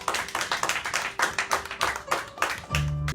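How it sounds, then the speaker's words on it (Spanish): Applause from a church congregation at a Miami service, sparse and uneven hand claps with distinct individual slaps rising and falling, ending in a brief low thump. "Vamos a recibir un fuerte aplauso."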